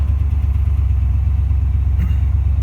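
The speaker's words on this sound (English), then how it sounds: "we're going to crank it up and show you guys and let you guys listen to the exhaust." A 1999 two-door Tahoe engine idles with a deep, steady exhaust rumble, loud and close, pulsing evenly throughout.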